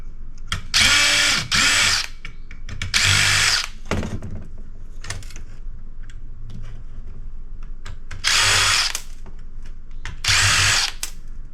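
Power drill backing screws out of scrap electronics, four loud whirring bursts of about a second each, close up, separated by quieter handling and rattling, with no speech.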